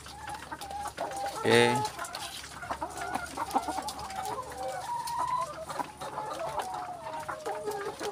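Laying hens cluck near the mic, with one loud squawking burst early on and softer clucks throughout; a voice briefly speaks.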